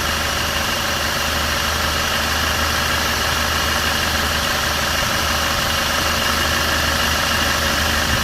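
A VW Passat engine idles at operating temperature with a steady, continuous hum and faint mechanical clatter, heard up close and unchanging throughout, with no talk.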